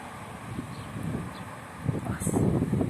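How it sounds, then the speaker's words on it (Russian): Gusty wind rising before rain under an open sky, a steady broadband rush with slight rustling that swells louder toward the end, heard close to the microphone with no talk. "Сейчас ветер такой интересный поднялся."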